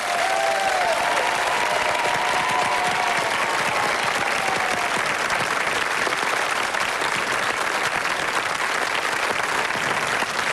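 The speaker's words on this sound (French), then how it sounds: "Quelques applaudissements pour nos deux équipes, s'il vous plaît" A game show studio audience applauds both competing teams, sustained even clapping filling the whole stretch without a break.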